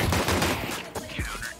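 Gunfire in Counter-Strike 2, a brief cluster of loud close shots in quick succession over a short moment.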